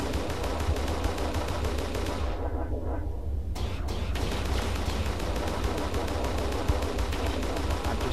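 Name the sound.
spaceship cannon gunfire in the video game Starsector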